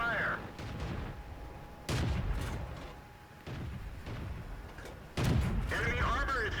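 Tank cannon shots in the World of Tanks video game, fired at a Matilda tank: three sharp, loud booms a few seconds apart, each with a short rumbling tail, with game sounds around them.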